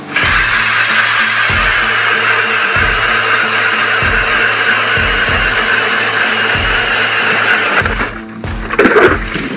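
A household power drill bores holes into lake ice outdoors, its loud steady whine running almost continuously with repeated low thumps as the bit chews through, then stopping near the end to leave scraping and shuffling.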